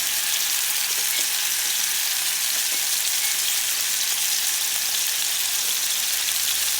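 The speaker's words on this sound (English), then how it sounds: "Add your steaks, and you're going to cook about 1 minute each side." Thin ostrich steaks frying in a hot pan, a loud, steady, unbroken sizzle close up, with faint occasional crackles and no voices.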